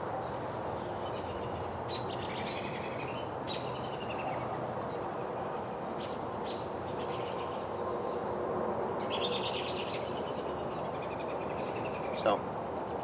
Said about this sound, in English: Listening to the birds in the background.